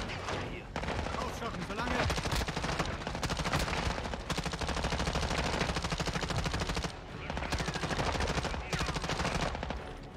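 Sustained automatic gunfire in Warzone, long dense bursts of rapid shots broken by brief pauses, loud and close throughout.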